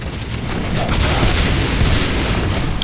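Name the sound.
level 1 shotgun firing in a video game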